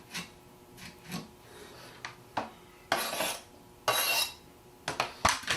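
A knife cuts tomatoes for a Bangladeshi salad, with soft, scattered taps and scraping sounds on a cutting board, some louder chops spaced irregularly, and quiet pauses between them, heard up close.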